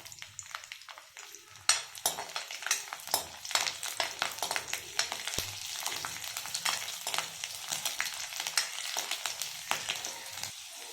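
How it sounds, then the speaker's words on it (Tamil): Peeled garlic frying in oil for kara chutney, a continuous crackling sizzle with frequent stirring scrapes and spatters, moderately close and no talk. "கூடவே உரிச்சு வச்சிருக்க பூண்டையும் சேர்த்துக்கலாம்."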